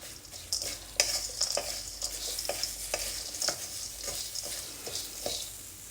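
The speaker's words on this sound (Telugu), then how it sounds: "కడాయి వేడిగా ఉండగానే ఒక పదిహేను తంచి పెట్టుకున్న ఎల్లిపాయలండి ఎల్లిపాయలు వేసేసుకోవాలి అన్నీ కలుపుకోవాలి బాగా" Garlic stirred through a hot kadai with a snack mix, an ongoing close sizzle broken by repeated scraping clacks of a spoon against the pan in an uneven rhythm, with no talk.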